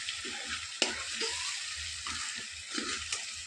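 Eggplant fries in plenty of oil as it is stirred, giving a continuous close sizzle with soft scraping and clinks of the spoon against the pan.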